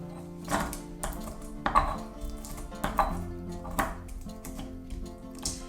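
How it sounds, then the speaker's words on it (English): Rhythmic knocking and grinding of hard spices being crushed, about one firm strike per second, close up with faint background hum. "So when you crush these up, it's really helping the spices to release their essential oils"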